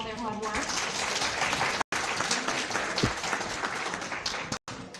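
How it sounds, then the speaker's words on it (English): An audience applauds volunteers and staff at an event, a broad, sustained wash of clapping that fills the room, with brief cut-outs and some voices underneath. "Please give them a round of applause for all their hard work."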